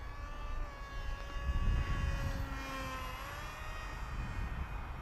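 A ZOHD Talon GT Rebel V-tail RC plane on its maiden flight whines overhead with a steady electric-motor tone that bends in pitch as it passes, against wind noise.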